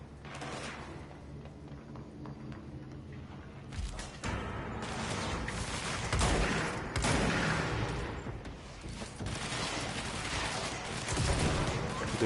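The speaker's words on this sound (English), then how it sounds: "Oh, I hear gunfire." Gunfire in the video game Control, rapid bursts of shots and explosive impacts under a dense game soundscape, growing louder and busier partway through.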